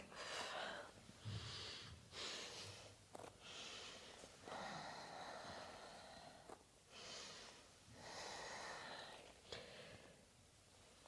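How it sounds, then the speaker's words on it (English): Deep, steady breathing through a yoga practice, slow alternating inhales and exhales with a soft airy rush, close and fairly quiet, with no talking. "Deep, steady breaths."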